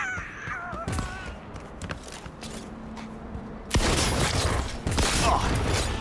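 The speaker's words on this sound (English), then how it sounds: "I'm gonna rush in with a shotgun." A shotgun in a video game gives a few sharp mechanical clicks and clacks, then a loud, broad blast that rings out and fills the rest of the moment with no talk over it.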